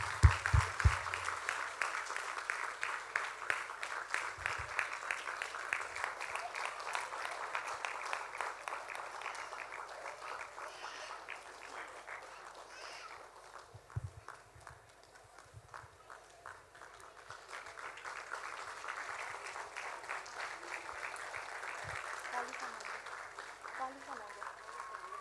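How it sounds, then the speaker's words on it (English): Audience applause at a live Bharatanatyam Arangetram dance performance, steady dense clapping sustained throughout at moderate distance, easing slightly in the middle before picking up again. "Let's keep on clapping."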